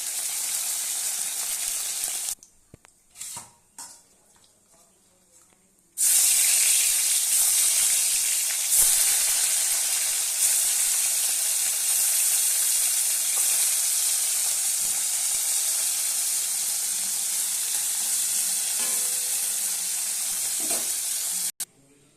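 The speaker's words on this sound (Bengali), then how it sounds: "মাছগুলো ভালো মতো ভেজে নিয়েছি" Fish frying in hot oil in a pan, a dense steady sizzle and hiss that runs loud and close for most of the time, briefly dropping to quieter clatter before resuming at full strength.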